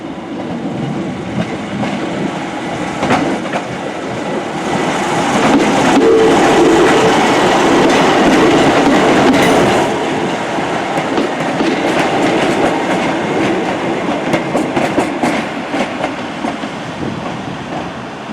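Avanti West Coast train passing close by on the line, a loud continuous rumble with rhythmic clickety-clack of wheels over rail joints, swelling in the middle and easing off toward the end.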